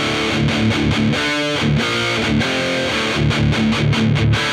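Heavily distorted electric guitar through an Artist TweedTone20R amp chugs and rings out in loud, saturated high-gain chords with short rhythmic stops, no voices.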